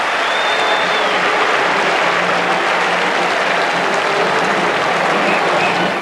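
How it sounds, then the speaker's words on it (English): A cricket crowd applauds steadily at the 1996–97 Carlton and United Series final between Pakistan and West Indies. The dense, distant clapping holds at an even level throughout, without speech. "He acknowledges the applause."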